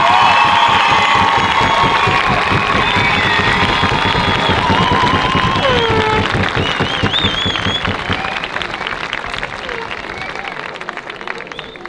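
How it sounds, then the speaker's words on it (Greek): An audience at a school event applauds loudly with cheering and shouts, dense clapping that stays strong for several seconds before gradually thinning and fading out. "Παιδιά, δώστε το πιο δυνατό σας χειροκρότημα για τον κύριο Κρίμιζη"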